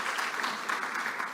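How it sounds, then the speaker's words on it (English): An audience at a seminar convention claps in a steady, dense round of applause heard close and fairly loud, with no talking over it. "a big round of applause for them"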